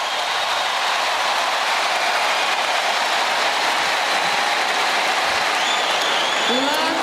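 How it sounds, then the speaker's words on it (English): Crowd at the US Open women's final between Sabalenka and Anisimova cheering and applauding loudly after a point, a dense continuous roar from the stands. "Now the crowd are going for it."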